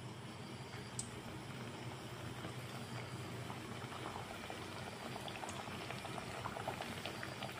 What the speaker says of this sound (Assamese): তেলখিনি গৰম হৈ গ'ল আৰু এতিয়া দি আছোঁ এটা এটাকৈ ভাজা লেয়াৰ।